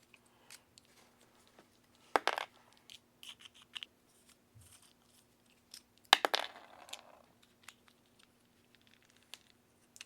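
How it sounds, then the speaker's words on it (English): Small screws being backed out of the motor mount of a Traxxas 1/16 E-Revo VXL RC truck with a 2mm driver, quiet scattered metallic ticks and scrapes with two louder clattering bursts. "Go ahead, remove these 4 screws, holding the motor mount on."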